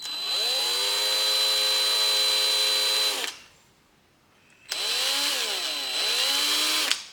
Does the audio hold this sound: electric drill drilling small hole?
yes